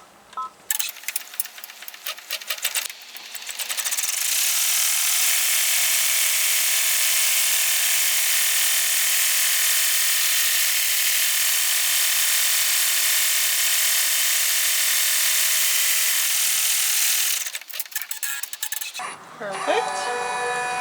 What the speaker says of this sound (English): It shows on my machine the stitching time is actually 3 minutes.